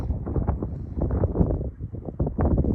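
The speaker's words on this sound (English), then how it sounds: "It's really windy." Gusty wind buffets the microphone in a steady, rumbling roar outdoors in Utah, loud and close, with no one speaking.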